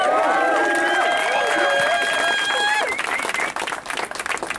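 Crowd cheering and clapping at a gathering in an eco-village protest camp, with whoops and voices rising over the applause and then fading into scattered clapping.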